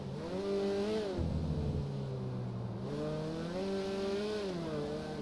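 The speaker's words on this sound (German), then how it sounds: "jetzt fahren wir einmal kurz unser Auto in die Garage" A car drives in a GTA roleplay game, its engine tone rising and falling in steady harmonic sweeps, loud and continuous for the whole stretch with no talk.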